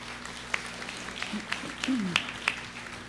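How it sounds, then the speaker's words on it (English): Audience applause at an Eid al-Fitr community celebration in Brooklyn, a light, scattered patter of clapping from a crowd with a few sharper claps, mixed with voices and talk over it. "yes, give him a round of applause."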